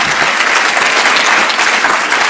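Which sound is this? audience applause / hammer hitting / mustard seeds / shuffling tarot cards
audience applause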